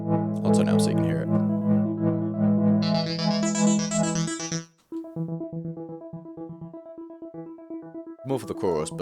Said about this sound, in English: this is just a part of the UAD Polymax synth, Arp Demon, just a preset.